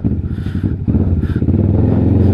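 A Triumph adventure motorcycle engine runs at a test ride event in Greenhills, a close, throbbing idle that rises into a fuller, steadier drone partway through.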